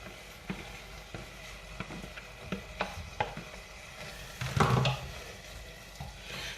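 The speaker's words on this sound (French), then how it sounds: "Je viens enrober mes lentilles de ma sauce" Lentils are stirred through a sizzling Moroccan charmoula sauce in a pan, a soft steady fry hiss with regular scraping strokes of the spoon and a brief louder clatter partway through, close and unaccompanied by talk.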